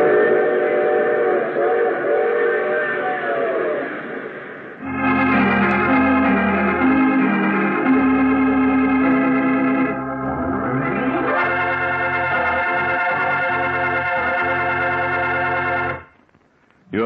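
A train sound effect for an old-time radio drama: a loud, sustained wailing whistle chord gives way to chugging rail noise and more long whistle blasts, with a bending pitch swoop midway, all fairly close and without speech.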